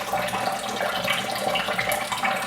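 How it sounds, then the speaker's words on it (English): Water runs steadily from a sink tap for a few seconds, a constant close splashing rush. "Should I just use sink water?"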